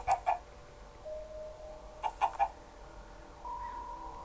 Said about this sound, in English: those are my chickens.